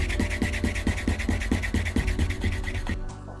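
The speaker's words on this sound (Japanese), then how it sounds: "へり落としができたら磨き剤で磨いて完成になります。" Leather edges of a slim glasses case are rubbed with a burnishing agent in rhythmic back-and-forth strokes, about a dozen evenly spaced scrubbing passes, close and clear, ending abruptly.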